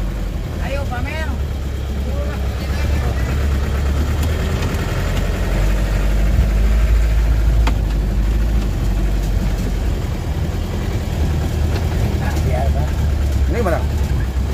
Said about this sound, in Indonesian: menggunakan mesin Mitsubishi